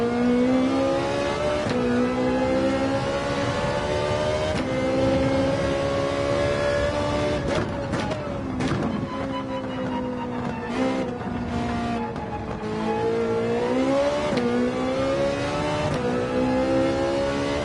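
A race car in the Gran Turismo 7 video game laps the Daytona road course, its loud engine note rising and falling through gear changes and lifts for braking, then climbing again under acceleration, continuous and close throughout.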